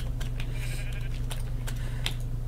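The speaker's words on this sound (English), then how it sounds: "Where'd that sheep go? Come back here, sheep." Sheep in a survival video game bleat in short nasal calls against a steady low electronic hum, with a few clicks scattered between.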